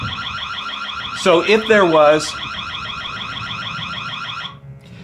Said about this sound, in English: an audible alarm that we can turn on here if there happens to be a predator in the area